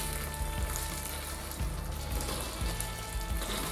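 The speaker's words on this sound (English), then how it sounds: "And we're going to fry our paste for about 5 minutes." Sun-dried tomato paste fries in oil with a steady, dense sizzle and crackle that holds evenly throughout, with occasional soft low bumps beneath the hiss.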